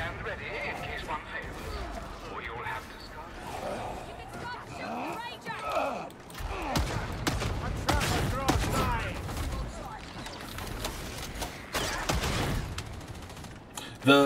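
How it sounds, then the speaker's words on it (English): Bolt pistol fire in Warhammer 40K Darktide, rapid heavy gunshot bursts amid chaotic combat noise, loud and dense throughout with a voice talking over it. "Bolt pistol, my beloved."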